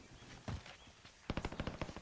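An FAL rifle in Call of Duty Warzone fires one shot, then a quick run of about eight loud, evenly spaced shots, all against steady game background noise.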